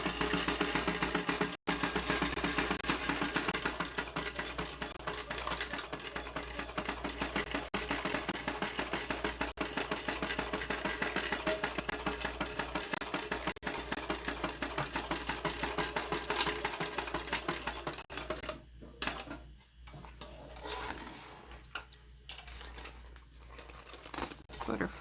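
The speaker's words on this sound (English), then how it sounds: "we want to stitch across the bottom, but we're going to use a 3/8 inch seam allowance for the exterior" A sewing machine stitches across the bottom of a tote bag with a 3/8 inch seam, a close, rapid mechanical whir running steadily before breaking into short stop-start bursts near the end.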